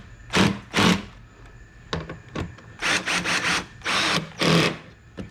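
Cordless drill set to low torque snugging the mount of a Rough Country Black Series quad LED pod light on a JL Jeep Wrangler, giving several short close whirring bursts with brief pauses between them.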